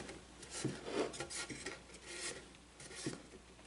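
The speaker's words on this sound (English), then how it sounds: "Hand planing this to make it thinner" Hand plane shaving wood thinner for a jewelry case, a faint rasping scrape repeating in uneven strokes, close but quiet.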